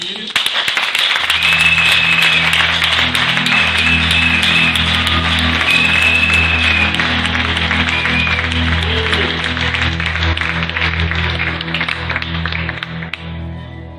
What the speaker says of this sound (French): on doit acclamer, ça fait qu'on a encouragé